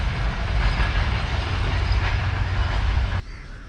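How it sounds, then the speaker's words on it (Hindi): The Awam Express train crosses the Alexandra Bridge over the Chenab River in a loud, continuous rumble with steady rolling wheel noise, then cuts off abruptly near the end. "तो 13 आप अवाम एक्सप्रेस गुजर गई अलेक्जेंड्रा ब्रिज से।"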